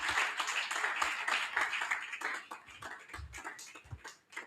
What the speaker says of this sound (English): Please give Prof a big round of applause